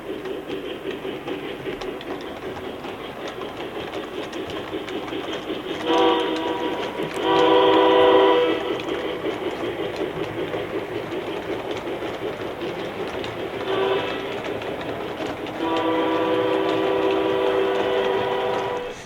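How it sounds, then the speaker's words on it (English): A small train rumbles along steadily, sounding two longer horn blasts partway through. "Another short tunnel brings our train into West Valley."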